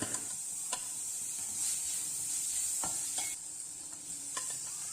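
Tomatoes sizzle in a frying pan for a Malayalam cashew nut fry curry, a steady close hiss with a few brief stirring clicks and scrapes running throughout, no talk.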